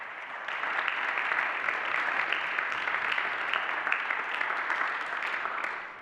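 Audience applause fills a live guitar concert in a church hall, a steady dense wash of clapping that holds for about six seconds before starting to fade, with no talking over it.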